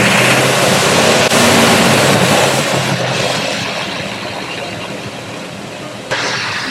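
Engine idling at a pole barn build site, giving a steady, loud, continuous rumble that eases slightly partway through, with a brief knock near the end and no talk.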